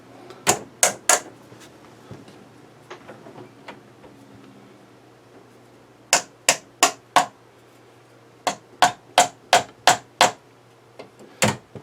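Sharp, loud metallic taps knock a part into place on a sailboat's Yanmar engine during maintenance, without a rubber mallet. They come in quick bursts of three, then four, then about eight, with softer scattered knocks between.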